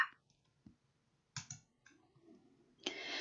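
Mouse clicks in a spreadsheet program, several sharp, isolated clicks spaced across a few seconds in a quiet room, close and crisp, with faint rustling between them.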